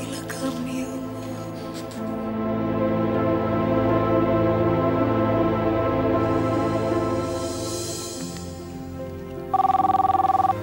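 A telephone rings at night, a trilling electronic bell with a tonal melody swelling in over a soft background, then a loud clear ring burst at the end, alone without talk.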